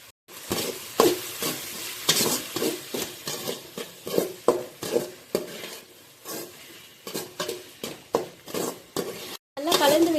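Onions and tomatoes being stirred and sautéed in a pan for fish curry, with a spoon scraping and clinking in bursts over a soft sizzle, up close; a voice speaks briefly near the end.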